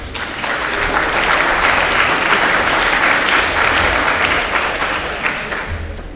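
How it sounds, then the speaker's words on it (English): Audience applause after a tech talk speaker is introduced, a steady, dense roar of clapping filling the room for several seconds before fading slightly at the end. "Let's give him a round of applause."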